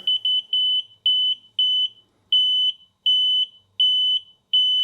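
An electronic heated diode refrigerant leak detector alarm beeps shrilly, repeating quick clusters of high-pitched chirps, loud and steady, with brief pauses between each group, no voices.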